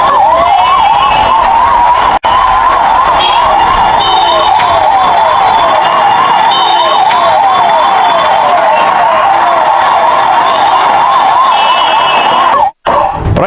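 An ambulance siren wails loud and close, sweeping in a fast, steady up-and-down yelp on its way to Medanta hospital. It runs continuously for over twelve seconds, broken only by two brief dropouts, with no talk over it.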